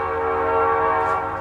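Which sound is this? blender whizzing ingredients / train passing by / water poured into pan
train passing by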